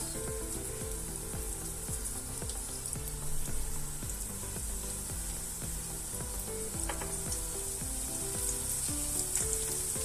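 Borek pieces fry in a pan of hot oil, a dense, steady crackling sizzle with rapid popping bursts throughout, close and continuous with no voices.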